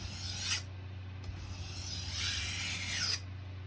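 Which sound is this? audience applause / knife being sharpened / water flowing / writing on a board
knife being sharpened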